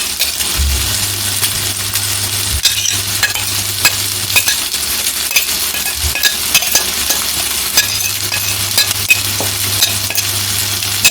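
Salmon pieces fry in a pan, a steady bright sizzle and crackle running throughout, with occasional clinks and a low hum coming and going underneath.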